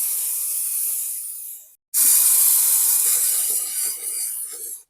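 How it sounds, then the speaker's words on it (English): Spray adhesive hissing from an aerosol can in two long, steady bursts separated by a brief pause, close and fairly loud with no other sound. "Spray adhesive."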